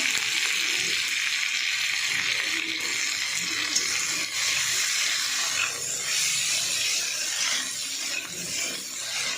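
Okra sizzling and frying with onion in a hot pan, a steady broad hiss of oil with faint crackles running throughout, close and fairly loud, no talking.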